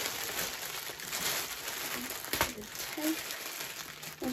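Tape-bound paper packaging crinkles and crumples continuously as it is handled during a Disney Loungefly unboxing, close and steady, with speech nearby.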